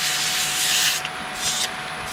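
Hand sanding of a wooden pizza cutter, steady close rasping strokes of abrasive on wood, with a short pause and a second brief stroke near the end.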